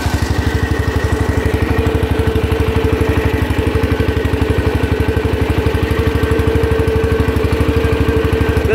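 A John Deere 140 garden tractor's engine running steadily at idle, a loud, close, rhythmic chugging putter with rapid even pulses and light clatter, unbroken throughout with no talking.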